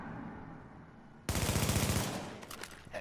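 Automatic gunfire in Tom Clancy's The Division video game erupts as a sharp, loud burst of rapid shots lasting under a second, followed by a few fading echoes and clatter.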